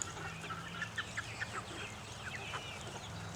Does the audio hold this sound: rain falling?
no